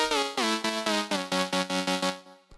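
Serum synth playing the Lead Dynamics preset, its oscillators stacked a perfect fifth up, for a tech house lead: a bright, harmonically rich riff of about nine short rhythmic notes that ends in a brief decaying tail, played alone with no voices.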